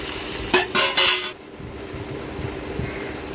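Tamarind and tomato water poured into a hot tempering with dried red chillies for rasam, giving a short burst of loud hissing sizzle that settles into a softer bubbling crackle.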